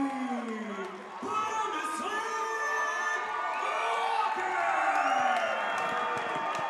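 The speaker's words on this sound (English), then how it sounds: "Crowd is electric for this main event" A Lion Fight main-event crowd cheers and whoops in a loud, sustained roar of voices, with shouts rising and falling and an announcer's voice sweeping over it.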